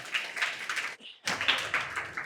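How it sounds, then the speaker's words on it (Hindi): A crowd at a Nagpur quiz gathering breaks into loud, steady applause, its dense clapping pausing briefly near the middle before surging back. "जोरदार तालियां।"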